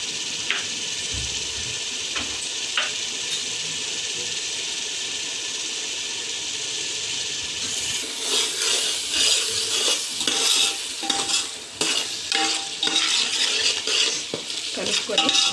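Prawn biryani masala with salt and turmeric being stirred in a pan: a quiet hiss at first, then busier from about halfway, with repeated metallic scraping and clinking of a spoon against the vessel over a soft sizzle.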